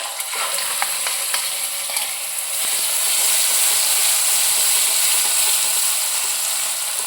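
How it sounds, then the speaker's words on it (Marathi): Masala with turmeric and chilli powder fries in oil over a low flame, a steady bright sizzle and hiss close by, with a few light clicks of stirring early on and no talking. "असं छानपैकी हा मसाला भाजू द्यायचा तेलामध्ये"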